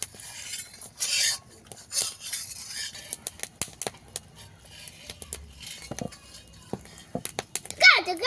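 A cook stirs a batter with baking soda and a sweet sauce, giving a few sparse scrapes and clinks of a utensil against a bowl, set apart by pauses, while a person speaks quietly nearby.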